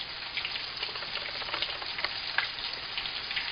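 Ruffed grouse bites sizzle and crackle steadily in hot oil, a close, continuous fry with scattered pops and no voices.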